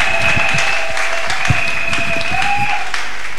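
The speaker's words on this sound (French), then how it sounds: "Acclamons-le avec joie." A church congregation applauding: steady, full clapping from a crowd throughout, with faint tones and voices underneath.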